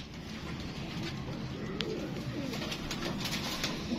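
Coloured pigeons in a loft coo softly in the background, low murmuring calls over a steady ambient hum, with a few faint clicks and wing or foot sounds nearby.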